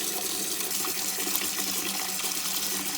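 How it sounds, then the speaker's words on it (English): Water pours steadily from a tap into a pan of potatoes being filled to cover them, a continuous close gushing and splashing that lasts the whole time without talk. "we're just going to put enough water in this pan to cover the top of the potatoes"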